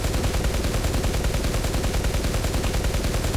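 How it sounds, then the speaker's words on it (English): Tank machine guns firing in War Thunder on a Russian IS-4M heavy tank, a loud, continuous rapid stream of evenly spaced shots that lasts the whole time. "I love those machine guns."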